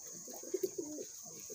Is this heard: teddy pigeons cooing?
yes